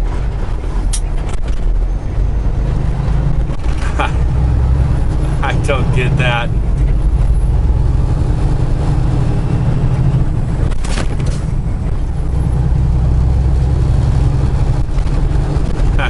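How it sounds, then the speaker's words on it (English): Trucks braking in slow New Jersey traffic give short hissing air-brake bursts over a steady low engine rumble, with a person speaking briefly nearby. "Why are we all slamming on the brakes?"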